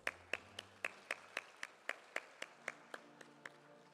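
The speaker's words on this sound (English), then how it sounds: "Another round of applause." A small audience at an African political parties summit claps after an MOU signing, producing faint, evenly spaced single claps in a slow, steady rhythm, thin and distant.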